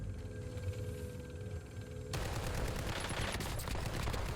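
Gunfire from the Cypher weapon in Warzone, a dense burst of shots swelling in loudness partway through amid busy in-game sound, with no talking.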